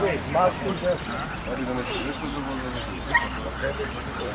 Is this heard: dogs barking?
yes